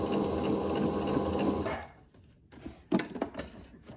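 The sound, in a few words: sewing machine stitching shirred fabric for pants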